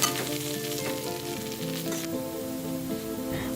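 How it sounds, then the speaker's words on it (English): Curry leaves fry in hot oil in a pan, giving a dense continuous sizzle and spatter while being stirred, steady and close throughout, with no one speaking. "3 stalks of curry leaves go in now. Let's stir and cook this for about 30 seconds."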